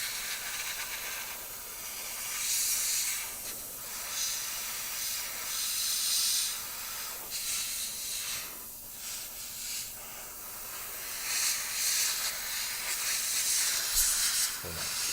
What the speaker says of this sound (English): Just going over it all with a dry brush. Not a dry brush, an airbrush.